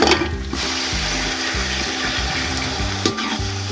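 Chicken pieces dropped into a pot of lightly browned onions for matar pulao, giving a loud, steady frying sizzle with bubbling and stirring scrapes close by, without any speech.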